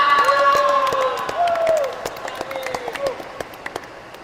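Students in a school physical education lesson clap for a classmate, a brief patter of scattered claps mixed with children's voices and high cheers that thins out and fades.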